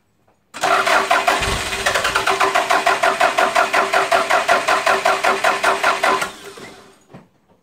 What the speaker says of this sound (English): I'll do the same test again, but I'm going to keep cranking this time